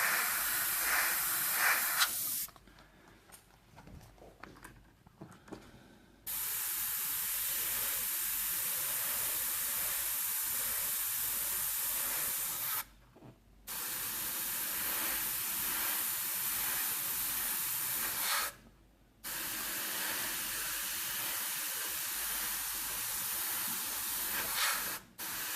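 An airbrush sprays paint onto a skull in long, steady hissing bursts, with several short pauses between passes, loud and close.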